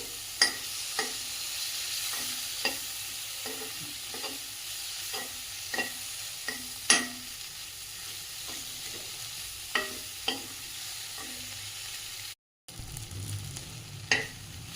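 Tomatoes and tamarind fry in a pan for urad dal chutney, a soft, continuous sizzle punctuated by frequent, fairly regular stirring scrapes and taps close by, with no speech.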